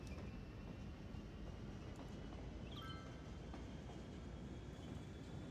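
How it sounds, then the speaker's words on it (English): Train ride in the video game Cities Skylines: a steady, faint rolling rumble of rail travel with a soft hum and a brief high chirp midway, continuous and without talk. "I absolutely love this train journey ride."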